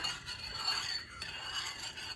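Soft, continuous scraping and swishing of a spoon stirring thick batter in a bowl, steady and close, with no talking.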